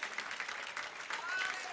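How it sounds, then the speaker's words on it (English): Church congregation clapping in a sanctuary, a dense, steady patter of many hands filling the room with a few scattered voices underneath. "You're clapping for you."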